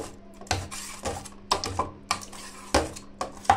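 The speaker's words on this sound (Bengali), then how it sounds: "সেটাকে এই গ্লাসের সাহায্যে ম্যাশ করে নিচ্ছি" Boiled apple mashed with a glass in a kitchen container, heard as a series of close, dull knocking thuds at irregular intervals with light clinks, no talking.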